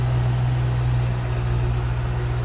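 A 2007 Ford Mustang Shelby GT500 with a hand-built 5.4 litre dual overhead cam supercharged V8 idling, a steady deep rumbling drone, close and unbroken with no voices.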